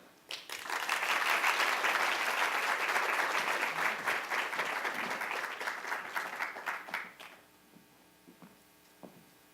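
An audience breaks into warm applause to welcome a speaker onstage, a dense wash of clapping that swells quickly, holds for several seconds, then thins out into a few scattered claps.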